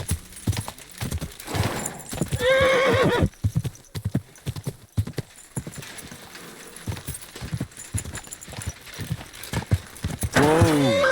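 Repeated hoof clip-clops from a horse in Kingdom Come: Deliverance II, broken by two loud whinnying neighs, one early and one near the end.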